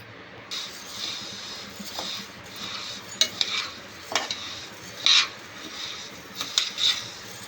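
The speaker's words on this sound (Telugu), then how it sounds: "ఈ రెండు బాగా కలుపుకొని స్టవ్ సిమ్లో ఉంచి బాగా వేగే వరకు ఫ్రై చేసుకోవాలి." Urad dal and a little rice are stirred and dry-fried together in a pan over low heat, with a steady soft scraping and a faint sizzle punctuated by several sharper clinks of the spoon against the pan.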